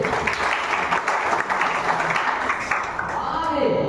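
Clapping from a crowd at a business meeting, a steady round of applause with voices mixed in beneath it throughout.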